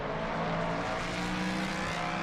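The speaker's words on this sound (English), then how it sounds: "You can hear some of the driving in the background." Continuous engine roar of a GT3 race car at Suzuka in a racing video game, a steady mid-level drone with faint hints of tyre noise, alone.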